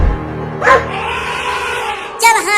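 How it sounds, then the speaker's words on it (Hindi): A cartoon dog yaps and barks at an elephant, two short bursts of barking spread over a couple of seconds, loud and close, with a lower sustained tone running underneath. "अरे अब ये कुत्ता हाथी के ऊपर क्यों भौंकने लगा?"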